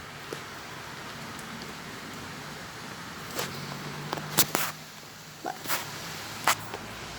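Steady rain hissing down in Ankara during a thunderstorm, with a few sharper drops and knocks standing out now and then.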